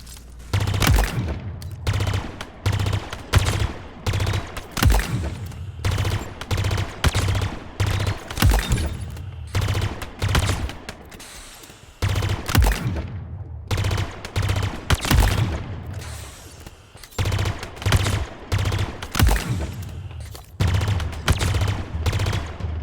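Burst-fire plasma weapon in Halo Infinite, shooting repeatedly in loud, rapid clusters of shots separated by short pauses, continuing over more than twenty seconds.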